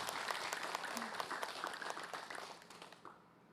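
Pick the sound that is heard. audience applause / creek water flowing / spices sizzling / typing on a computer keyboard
audience applause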